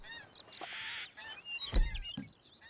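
Geese honk as they fly past in a video game, several loud overlapping nasal honks and calls near at hand, followed by a brief low thump, with no voices.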